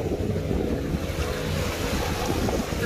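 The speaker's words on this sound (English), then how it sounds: "This is the beach." Surf and wind at a beach on Virginia Key, Florida, form a steady, fairly loud wash of waves with blustery rumble from the wind and no voices.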